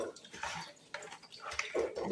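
Eggs are rinsed under running water, with splashing and trickling in uneven bursts and small knocks, close and moderately loud.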